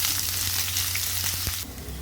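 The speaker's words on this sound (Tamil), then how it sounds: "வெங்காயத்தை நல்லா வதக்கிக்கலாம்" A steady, fairly loud sizzle of onions sautéing in a hot pan, with a low hum underneath and occasional soft clicks, no talking.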